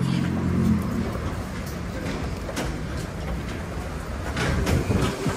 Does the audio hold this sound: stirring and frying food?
no